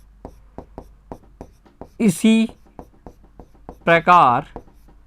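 Quick, regular strokes and taps of writing on a board during a class 10 maths lesson on triangles, a steady close scratching rhythm broken twice by short bursts of a voice.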